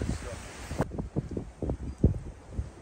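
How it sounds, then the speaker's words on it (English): Gusty wind buffets a microphone outdoors at a work site where hard hats are being tested, producing low rumbling thumps and bursts that come and go over a couple of seconds, with a voice speaking now and then. "The wind."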